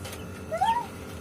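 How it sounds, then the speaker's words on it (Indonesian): A single short cat meow, rising then falling, fairly faint over a low background hum. "Ini kucing."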